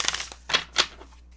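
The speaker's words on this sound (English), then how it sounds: "One last shuffle." Tarot cards are shuffled in a few quick riffling bursts, close and crisp, with brief pauses between them.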